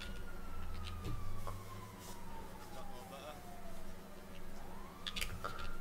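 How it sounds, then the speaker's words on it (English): Emergency vehicle sirens wail in a roleplay video game, rising and falling in long sweeping tones over steady engine noise, with a voice talking over them. "Oh, it's the sirens that are going off."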